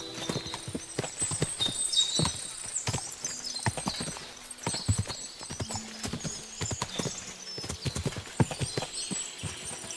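Many horses clip-clop in the video game Kingdom Come: Deliverance II, a steady jumble of hoof strikes on hard ground, with an occasional whinny rising above the trotting.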